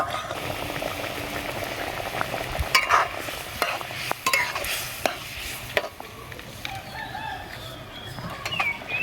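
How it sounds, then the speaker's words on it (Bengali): Pointed gourd being stirred and braised in a pan as it releases its water, with a steady wet sizzle and bubbling throughout and scattered sharp clicks of a spoon against the pan, close and moderately loud. "দেখো বন্ধুরা, এবারে কষাতে কষাতে পটল থেকে জল ছেড়ে দিয়েছে।"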